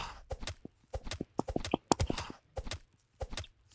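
Horse hooves clip-clop steadily in a video game, a quick, even run of close, crisp hoofbeats repeating through the whole stretch without any voices.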